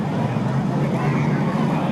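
Race cars at Seekonk Speedway during weekly short-track racing, a steady engine drone from the track with a voice talking over it.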